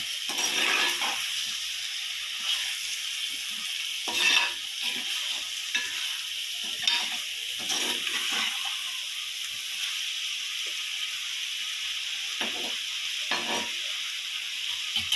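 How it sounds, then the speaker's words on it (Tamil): Chicken with onion and tomato fries in a pan for a chicken kulambu, giving a steady loud sizzle throughout, broken by occasional scraping stirs of the spoon. "நல்லா வெங்காயம் தக்காளி எல்லாம் மிக்ஸ் ஆகி வர்ற அளவுக்கு நல்லா கிண்டிடுவோம்."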